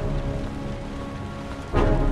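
Steady rain pours in the video game Heavy Rain, a dense, continuous hiss that swells louder near the end, with no speech.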